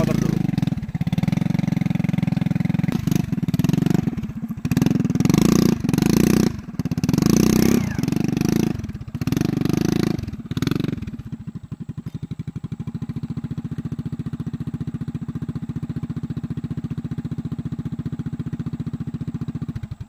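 A motorcycle engine idles and blips nearby, rough bursts of revving broken by brief pauses, then settling into a steady low putter as the bike is parked.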